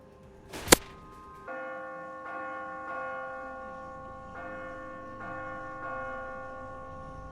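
A bell on top of a hospital rings out in repeated loud, resonant strikes, each long ringing tone decaying slowly before the next, after a sharp knock at the start.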